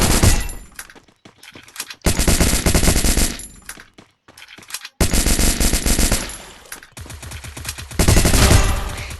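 Automatic weapon fire in the Free Fire battle game, several long loud bursts of rapid shots separated by brief pauses.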